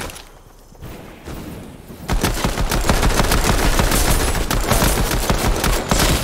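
Rapid weapon gunfire in the Knockout Air Royale video game, a dense burst of repeated shots that starts after a short quieter stretch and stays loud and continuous to the end.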